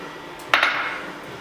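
Chickpeas and chopped onions tipped into a salad bowl, a single soft clattering drop with a brief rattle that settles quickly, close and fairly quiet, no talking.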